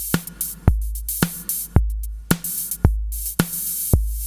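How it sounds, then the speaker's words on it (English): Modular synth hi-hats from a hi-hat module, with the decay time randomly modulated by control voltage, strike in a steady pattern; each hit is sharp and bright with tails that vary in length, over a low synth hum. "I'm CV modulating the decay time on a hi-hat module."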